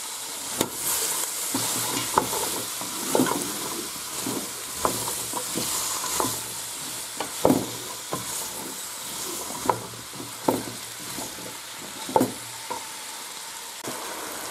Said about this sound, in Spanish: Ya lo hemos rehogado unos minutos